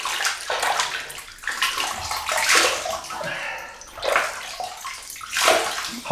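Hot water runs from a tap into a sink to wet a shaving brush before a shave with a Dovo Shavette, a steady broadband splash and slosh with rising and falling surges and no talk.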